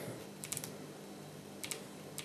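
Several soft, quick mechanical clicks in small clusters, close by and fairly quiet, from the control dial of a Nikon D3100 or D3200 SLR camera being turned, with no talking.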